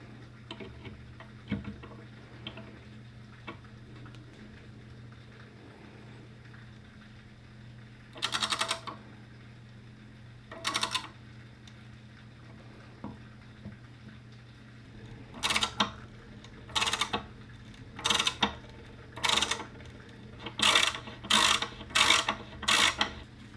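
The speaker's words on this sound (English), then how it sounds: "And then I'm going to use the tap." A hand tap cuts threads into a hole in a part for a DIY camera slider built from OpenBuilds components, giving sparse, then increasingly rapid clicking ratchets in short bursts over a steady low hum, close and fairly quiet.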